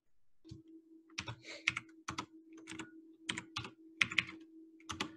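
Quick bursts of keystrokes on a computer keyboard while code is typed in, close and clear, in irregular clusters against a faint steady hum.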